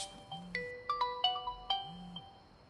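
A phone rings at night with a melodic electronic ringtone, a string of bright, fairly faint notes repeating over a low hum.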